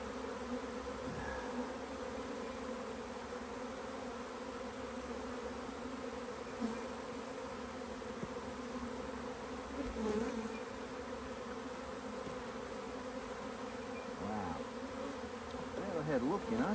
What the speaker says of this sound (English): This is all bees.